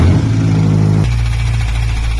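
An F10 BMW M5 engine with a rod knock runs close by, a loud, rough, steady drone whose pitch drops abruptly about halfway through.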